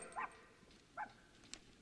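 A puppy shut inside a wrapped present box in a scene from the 1980s film Gremlins gives two short, muffled yaps about a second apart over a quiet background hiss.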